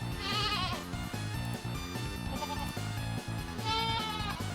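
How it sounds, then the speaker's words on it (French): A goat bleat serving as a game boss's wind-up sound: wavering, nasal bleats at the start and end ride over a loud, rhythmic music track. "Pour le bruit de la wind-up, je pense que ce sera juste un cri de chèvre"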